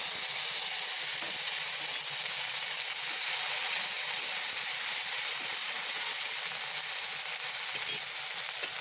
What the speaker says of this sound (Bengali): ফোড়নে দেবো গোটা জিরা, দুটো তেজপাতা, দিয়ে দিলাম আদা কাঁচা লঙ্কার পেস্ট,